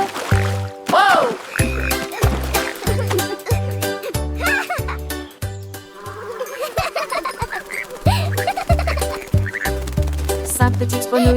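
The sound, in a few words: frogs croaking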